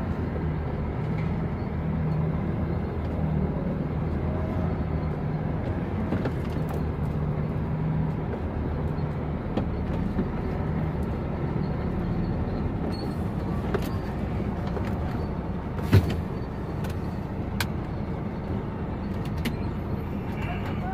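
A dump truck creeps along slowly with a steady, low engine rumble and rattling body, close and continuous, with one brief knock partway through.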